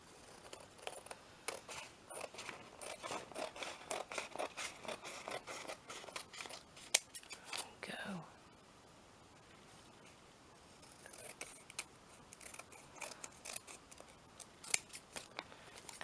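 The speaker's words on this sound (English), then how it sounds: "Let's cut these little bits off without cutting the envelope open." Scissors snip repeatedly at the edges of a paper envelope during a craft project, a steady run of close, crisp cuts with a quiet pause midway before the snipping resumes.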